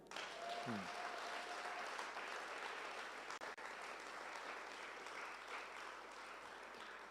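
A church congregation applauding, a steady broad wash of clapping that runs continuously at moderate level with a brief voice near the start.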